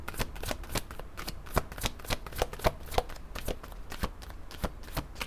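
A deck of chakra cards shuffled by hand close up: a steady run of crisp riffling snaps and soft card slaps, repeating rapidly and evenly throughout with no voice over it.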